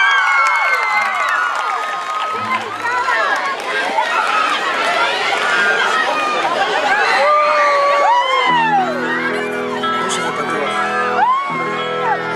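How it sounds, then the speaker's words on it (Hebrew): A big audience at a live show cheers, whoops and applauds for a girl named Eli, a dense, loud roar of clapping and shouting voices, with a sustained tone rising beneath it near the end. "תנו לה המון כפיים למיוחדת הזאת."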